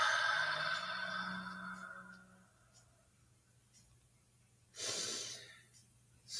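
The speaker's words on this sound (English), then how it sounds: "Take a few deep breaths." Slow deep breathing led by a group meditation guide, a long drawn inhale-exhale fading into near silence, then another brief breath toward the end.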